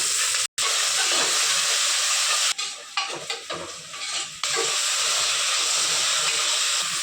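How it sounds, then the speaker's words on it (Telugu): Oil heating in a hot pan with half an onion added for a beans khaima curry, giving a loud steady sizzle and hiss with a brief cut, then clattering stirring and renewed frying close by. "దీనిలో ఆయిల్ వేస్తున్నాను. అక్కడ ఒక హాఫ్ ఆనియన్స్ వేసేయాలి."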